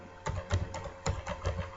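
Code is typed on a computer keyboard in quick, irregular clusters of soft, close key clicks over a low steady hum, with no voice.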